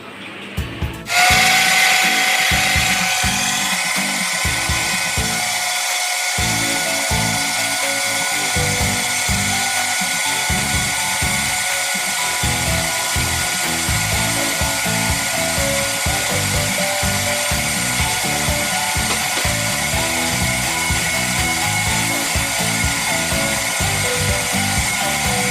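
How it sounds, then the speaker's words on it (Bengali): A kitchen mixer grinder loudly grinds whole cumin, chili, ginger, turmeric and charmagaz into a spice paste, running steadily with a constant whirring roar and rattling of the jar throughout. "আমি এর মধ্যে দিয়েছি গোটা জিরে, লঙ্কা, আদা, হলুদ আর চালমগজ দিয়ে এটাকে মিক্সিতে বেটে নেব"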